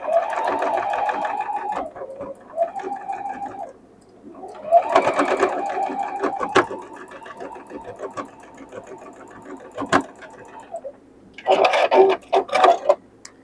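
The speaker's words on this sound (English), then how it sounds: "Just going to start sewing one piece to the next" A sewing machine joins quilt pieces for modern quilt blocks, running in several steady bursts of stitching separated by short pauses, close and clear, with no one talking.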